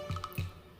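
Water dripping while a road outside is washed, two soft, separate drips close by and quiet.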